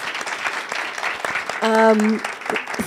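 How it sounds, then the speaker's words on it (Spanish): Audience applause in a legislature hall welcoming a guest speaker on the Russia–Ukraine war, a dense patter of many hands over murmured talk, with a brief tonal sound in the middle. "un aplauso para ella"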